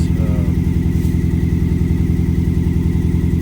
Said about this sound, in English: Started right up with a jump, exhaust issue.